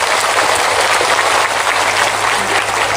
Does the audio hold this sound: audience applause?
yes